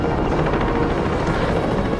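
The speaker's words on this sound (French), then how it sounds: "Les hélicoptères survolent Rockell Creek." Steady, loud thrum of helicopters flying low, with a low engine drone, sustained throughout with no voices.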